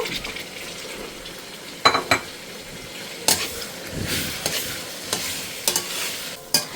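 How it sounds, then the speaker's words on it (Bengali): Steady sizzling of potatoes frying with onions in a pan, with occasional sharp scrapes and clinks of a spoon stirring against the pan. "এখন এই যে আলু ধুয়ে পরিষ্কার করে নিয়েছি, পেঁয়াজের সাথে আলু ভেজে নিব"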